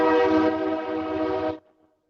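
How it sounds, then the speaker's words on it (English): A train horn sounds from a nearby railroad, one loud sustained chord-like blast held for about a second and a half before cutting off abruptly, leaving near silence. "I'm pretty close to the train"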